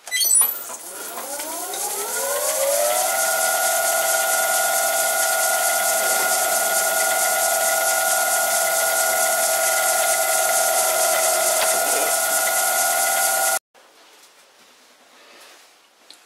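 A lathe drills a hole with a drill chuck: a loud, steady high whine ramps up in pitch over the first few seconds, holds evenly for about ten seconds, then cuts off abruptly, leaving quiet background.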